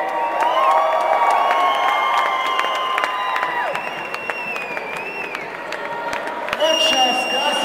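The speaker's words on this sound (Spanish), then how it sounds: "Un aplauso para Rodney!" Live audience at an entertainment show in Mexico City applauds and cheers loudly after a performance, steady dense clapping with whoops and shouts throughout, voices calling out over the crowd.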